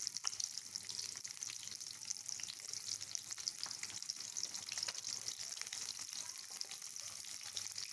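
Onions sizzle and fry in hot ghee for a minced-meat dish, a steady, quiet crackle and hiss with occasional stirring clinks, alone without any talk.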